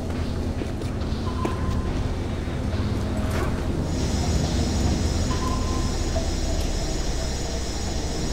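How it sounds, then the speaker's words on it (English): A military transport train rumbles steadily past a lab in the Tomb Raider Legend video game, a loud continuous roar with faint higher metallic tones on top. "There's a military transport train that runs past the lab."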